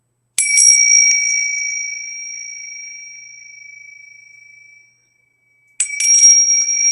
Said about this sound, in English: So those are Tibetan bells, and I love my Tibetan bells.